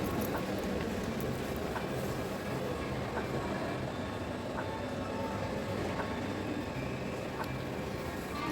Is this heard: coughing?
no